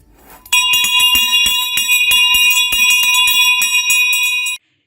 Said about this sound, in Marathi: हातात एक छोटी घंटा घेतली आणि ती वाजवली